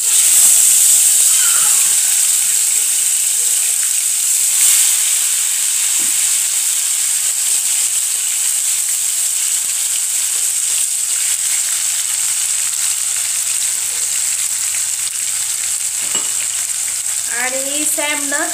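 Steady loud sizzle and hiss of tomato and onion frying in hot oil with cumin and mustard seeds, continuous throughout with faint stirring scrapes and a brief chirp near the end.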